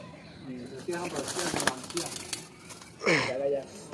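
Pigeons in a high-flying loft in Ranihati, Howrah, give soft cooing calls near and fairly clear, with someone talking over much of it.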